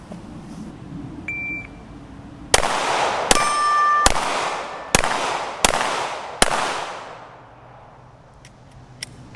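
A Ruger RXM pistol fitted with a Viridian RFX15 green dot fires six sharp, loud, close shots in quick uneven groups, each ringing out briefly, with a thin electronic beep near the start.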